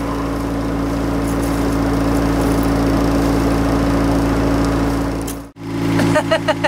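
A sailing boat's engine drones loudly and steadily while fishing off Greece, a constant close hum that cuts out abruptly near the end, followed by a few faint clicks.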